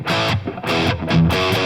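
A Les Paul electric guitar plays distorted chords with the delay effect switched off, loud and close, in a few choppy strummed bursts with no talk.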